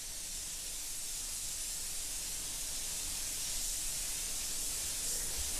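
Steady, even spray-gun hiss of high-coverage paint being laid on in light dust coats during panel beating and refinishing work, a constant airy rush running unbroken from start to finish with no voices.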